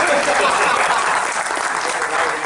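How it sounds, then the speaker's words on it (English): Audience at a corporate event in Pune giving a big round of applause for Mr. Krishna, loud, dense clapping sustained throughout, with voices mixed in. "Big round of applause for Mr. Krishna"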